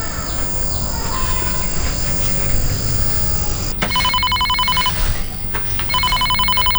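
A telephone rings in two electronic trilling bursts over a steady rumbling, noisy background.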